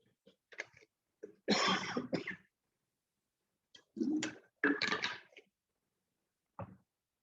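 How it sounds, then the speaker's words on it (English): A person coughs several times close up in two short bursts with pauses between, followed by a single quieter cough. "See, I am coughing because of Asian paints."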